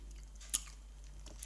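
Babybel cheese with Nutella is chewed close to the mic, with a few soft moist bites and two brief crunchy clicks over a low steady hum, quiet and without speech.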